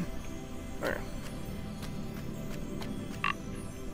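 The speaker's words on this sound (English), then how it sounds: "Okay, get out, frog." A frog croaks in the video game Grow Home, two short croaks spaced a few seconds apart over a steady hum of game background sound.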